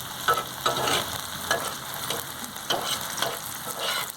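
Onions sautéing in a pan for karimeen pollichathu, a steady crackling sizzle broken by several scraping stir strokes at an even, unhurried rhythm, close and fairly loud with no talking.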